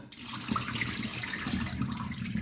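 Washing water poured off rinsed chicken gizzards and giblets for aspic, a steady splashing stream running close and continuously at moderate level, with no voices.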